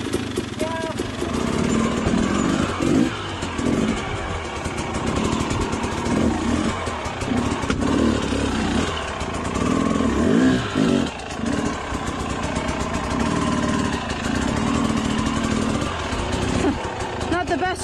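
An enduro motorcycle engine runs continuously with uneven revving and throttle blips, close and loud, while a rider handles the bike on rough ground and people talk occasionally over it.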